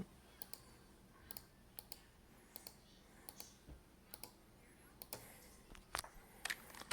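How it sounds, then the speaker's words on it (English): Typing on a USB keyboard plugged into an Amazon Fire tablet through a USB-C OTG adapter and hub: faint, sparse key clicks tapped one at a time against a quiet room. "Now I can type ASDF"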